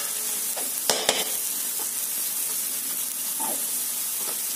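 A small amount of ginger paste sizzling in a pan, giving a steady close hiss marked by a couple of sharp utensil clicks and brief stirring scrapes, with no voices.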